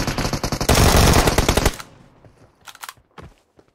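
Loud automatic gunfire in a battle royale video game: a dense, rapid burst up front, then scattered single shots and softer impacts trailing off, with no voices.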